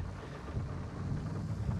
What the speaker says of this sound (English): It might not be till tomorrow we're in the fields with the amount of rain we're getting.